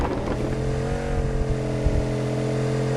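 Motorcycle engine from PUBG Mobile, holding a steady, droning hum at an even pitch that runs close and unbroken for the whole stretch.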